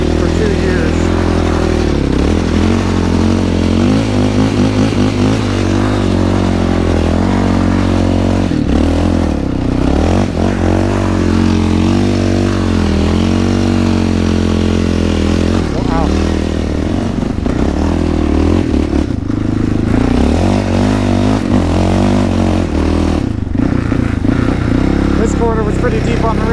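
A Honda quad ATV grinds through deep snow on the Rincon, its engine droning loud and close as it revs up and down steadily, with clattering and scraping mixed in and voices talking over it.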